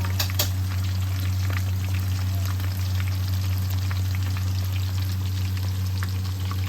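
Steady sizzling and crackling of chicken wings frying in hot oil in a pan, with a constant low hum underneath and occasional sharper pops.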